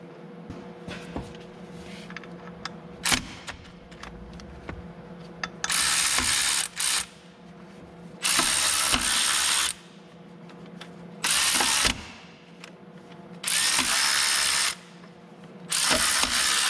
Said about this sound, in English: 10 millimeter bolts here for the water pump pulley